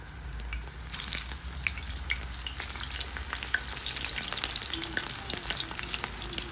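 Eggplant fries in a pan with a steady, loud, close sizzle and crackle of hot oil, continuous throughout with scattered sharp pops and occasional stirring sounds, no talking.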